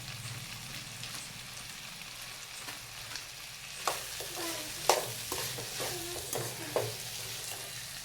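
Vegetables with homemade red chilli powder, salt, biryani masala and ground garam masala being stirred and sautéed in a pan for village-style veg biryani; steady sizzling with several sharp spatula scrapes and clinks, close and alone.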